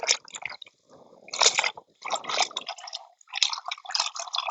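Hot water runs and splashes over a wound during care, coming in irregular bursts of trickling, dripping and splattering, fairly close and quiet, with brief pauses and no voices.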